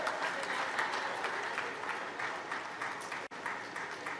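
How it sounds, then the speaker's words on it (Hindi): Audience applause at a public government event in Hisar with the Haryana Chief Minister, a sustained full-room clapping that stays strong and even, with a brief dip near the end. "आप सब जोरदार तालियां बजाकर उनका आभार व्यक्त करें"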